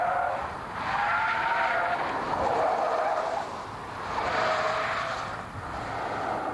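A permanent four-wheel drive car slides in oversteer with tyres squealing and scrubbing in long, wavering swells alongside a steady engine drone, moderately loud and without talk.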